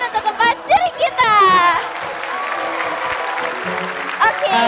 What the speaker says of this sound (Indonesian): Beri tepuk tangan untuk keempat juri kita.